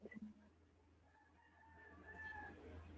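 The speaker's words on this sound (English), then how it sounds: "The roosters crowing." Roosters crow faintly in the distance, drawn-out calls rising over a low steady hum, with a brief murmur near the start.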